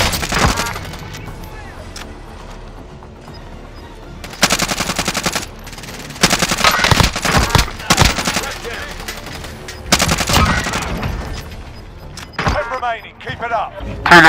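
Bursts of automatic and single-shot gunfire in Call of Duty: Modern Warfare, loud and close, come in clusters with pauses between them, while players talk over the shooting.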